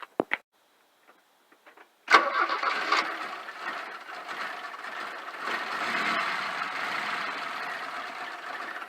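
A Porsche 924 engine cranks and catches after its fuel filter is replaced and the fuel system is bled, with a few faint clicks first, then a loud start into a steady, rough idle.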